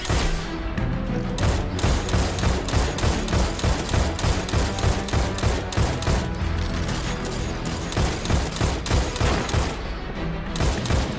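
Rapid gunfire from Destiny 2 during a Grandmaster Nightfall run, with dense repeated weapon shots and booms sounding continuously and loudly for the whole stretch, with no speech over it.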